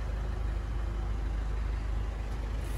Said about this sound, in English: And the engine has been running since we started.